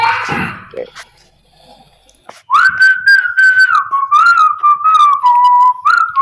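A person whistles a sustained, wavering melody with a few gliding notes, loud and close, after a brief burst of noise and quiet at the start.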